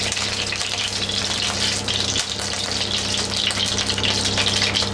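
Corned beef fritter dropped into hot oil in a frying pan, a steady loud sizzle with a constant hum underneath, close and continuous.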